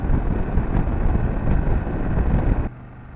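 Steady roaring wind buffets the microphone while riding a BMW F800GS motorcycle, with a low engine rumble underneath, then cuts abruptly quieter near the end.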